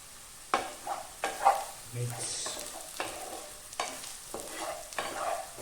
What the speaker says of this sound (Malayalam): ആ ഒരു പൊസിഷനിൽ ഒരു തണ്ട് കറിവേപ്പില ഇതിനകത്തേക്ക് ഇടുക